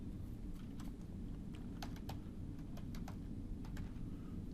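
Light clicking of a computer keyboard and mouse during SketchUp modeling, scattered taps in small clusters over a steady low background hum, close and fairly quiet.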